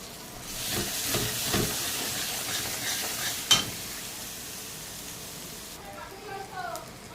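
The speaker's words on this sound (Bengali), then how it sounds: "এখন আমার মশলাটা ভাজা হয়ে গেছে।" Spice paste frying in a pan with salt and turmeric, a soft steady sizzle broken by a few stirring scrapes, one sharper knock midway, and faint talk over it near the end.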